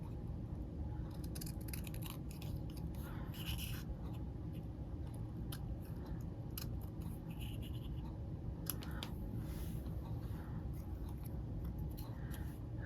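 Scissors snip through paper for a craft project in quiet, irregular close-up cuts, small crisp clicks and rustles scattered over a low steady room hum.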